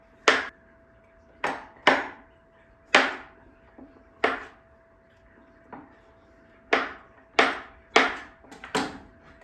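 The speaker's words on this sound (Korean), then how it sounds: "버터는 큐브로 잘라줍니다" Cold, firm refrigerated butter being cut into cubes with a knife, giving about ten sharp separate chops on a board in an irregular rhythm, close and clear with quiet pauses between.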